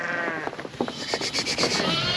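Several lambs bleat in quick succession, high and wavering, close by with farm noise around them.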